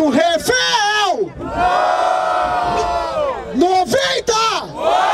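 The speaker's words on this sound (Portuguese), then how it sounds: "Escolhe um e grita, porra." A crowd at a rap battle in Barueri roars and whoops for a contestant, loud sustained cheering and yelling that swells, dips briefly, then surges again in rising shouts.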